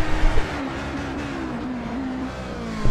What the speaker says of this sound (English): you guys notice that it's quite a different engine note to what we're used to, more of a deep-throated